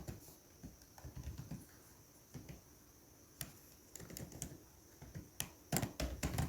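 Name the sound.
typing on a computer keyboard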